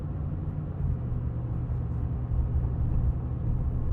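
A 2010 Ford F-150 Raptor engine drones in a steady, low, even rumble for a few seconds with no voices over it.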